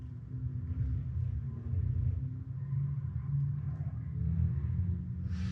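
Engine drone of a Porsche Taycan electric car lapping a circuit in the racing game Gran Turismo Sport, a continuous low rumble with a steady tone, moderately quiet and unbroken.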